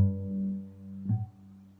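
A guitar chord is strummed once and rings with sustained, steady tones fairly close by, with a softer second touch partway through and no talking.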